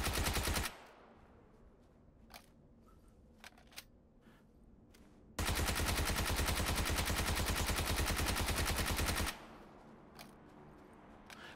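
A submachine gun with a compensator fires in PUBG, the console game: one continuous loud burst lasts about four seconds in the middle, with a shorter opening burst and faint scattered clicks between, no talk.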